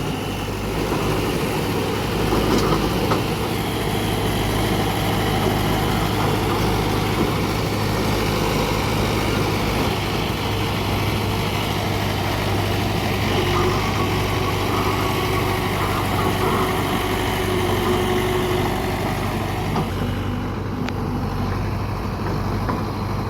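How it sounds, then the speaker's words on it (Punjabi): A heavy tractor with a heavy rotavator attached idles steadily in a field, a constant low engine rumble and drone that stays loud and unchanging throughout with no voices. "ਮਿੱਤਰੋ ਰੂਟਾਵੀਟਰ ਭਾਰਾ ਬਹੁਤ ਆ ਤਾਂ ਕਰਕੇ ਟਰੈਕਟਰ ਵੀ ਖੜਾ ਹੈ ਝੋਟੇ ਵਰਗਾ ਟਰੈਕਟਰ ਹੈ"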